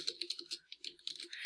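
Rapid keystrokes on a computer keyboard, close and fairly quiet, a steady run of light clicks with brief pauses and no talking.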